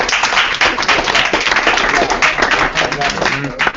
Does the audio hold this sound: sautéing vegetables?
no